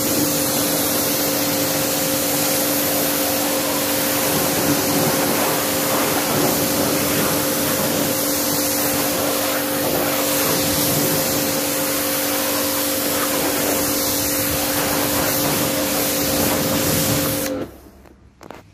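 Water spray from a pressure washer rinses a dirty car wheel rim, a loud constant hissing rush with a steady motor whine beneath, running evenly before cutting off abruptly near the end.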